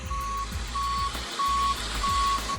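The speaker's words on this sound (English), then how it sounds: "the tow truck arrived." Repeated reversing beeps from a tow truck pulse about every 0.6 seconds over a steady low diesel engine rumble, fairly close and clear, with no talking.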